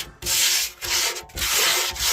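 An old metal gold pan is scrubbed hard to strip rust from its bare-metal bottom, giving three loud, close, gritty rubbing strokes with brief pauses between them.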